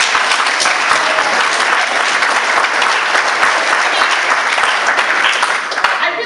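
Loud, sustained applause from a crowd at a Green Party AGM keynote speech, dense and continuous throughout.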